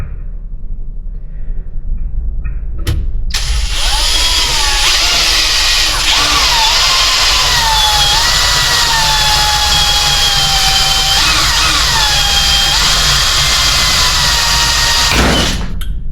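A power drill bores out a spot weld in sheet metal, a loud, sustained high whine with shifting pitch as the bit bites and wanders, after a couple of short starts, then cutting off abruptly.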